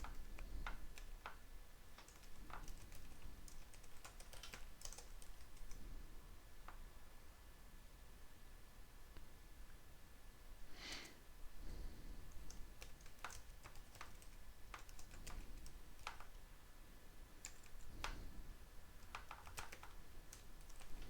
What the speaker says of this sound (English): so we need to type this command.